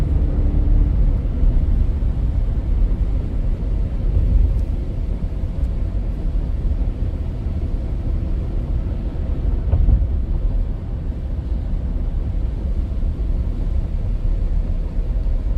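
A 2023 Ford F-150 XL STX FX4 4WD pickup cruises steadily, giving a continuous, even low road and engine rumble with no distinct shift breaks and no talk.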